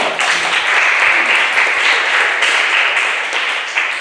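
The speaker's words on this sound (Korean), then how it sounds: "자리 잠깐 일어나주시면 박수 받겠습니다." A church congregation at a Sunday service applauds a visiting member, dense continuous clapping that fills the room evenly for several seconds.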